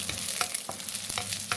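Garlic, ginger and shallots sauté in a pan for a beef stew, with a continuous close sizzle broken by rhythmic scrapes of stirring.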